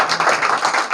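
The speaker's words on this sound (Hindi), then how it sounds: "बजाओ एक बार ये लोग के लिए ताली" Students clap hard together in a classroom celebration, a dense, sustained burst of many hands lasting about a second, loud and close with no speech over it.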